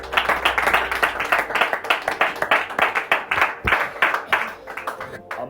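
Congregation applauding inside a church after prayer, a steady burst of many hands clapping at close range, with murmured voices mixed in and the applause tapering slightly toward the end.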